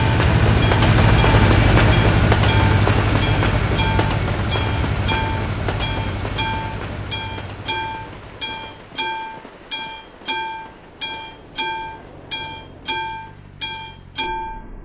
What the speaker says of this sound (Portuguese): Toda vez que eu chego aqui perto desse trilho de trem, o trem sempre passa.